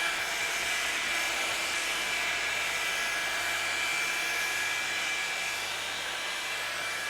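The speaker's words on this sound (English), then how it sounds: "It does get quite loud, but I mean, it's a hairdryer." A hair dryer blows with a steady, unbroken whooshing hum, constant in loudness from start to finish.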